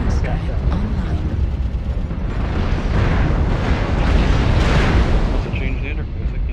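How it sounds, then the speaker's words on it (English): Airstrike explosions in the MechWarrior Online video game: a continuous heavy roar of booming blasts and rumbling detonations that stays loud and dense throughout, with bursts swelling midway. "Airstrike online."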